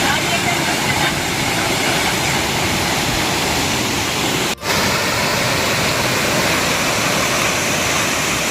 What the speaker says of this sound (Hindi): झरना बहुत बढ़िया है